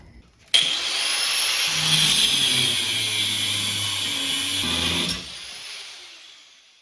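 A power tool whines up abruptly and runs steadily for about four and a half seconds as it cuts the end off a clutch shaft for a V8 go-kart, then spins down; no talking.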